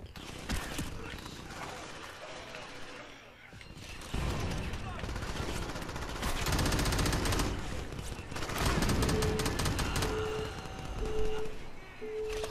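Gunfire in the Crackdown video game, rapid bursts of automatic shots rattling over busy game noise, with a player talking faintly underneath.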